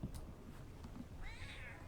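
A cat gives a single short meow near the end, faint against a low background hum and some soft rustling.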